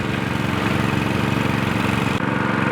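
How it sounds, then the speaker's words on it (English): A well drilling rig's engine runs steadily, a loud, constant mid-low drone with a regular throbbing beat and no break across the stretch. "Today we're gonna start the well drilling."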